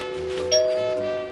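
A doorbell rings at the front door of Louis Armstrong House in Astoria, Queens, with a single soft chime tone over a steady indoor hum.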